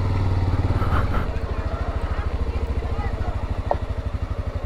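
A motorcycle engine runs near Machu Picchu with a steady, close putter of rapid regular firing pulses throughout, while a person speaks briefly over it near the start.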